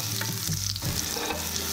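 Ginger and chopped garlic sizzle in a very hot wok, a steady loud frying hiss with a stirring scrape midway, no voices.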